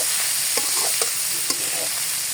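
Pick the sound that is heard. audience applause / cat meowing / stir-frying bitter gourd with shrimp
stir-frying bitter gourd with shrimp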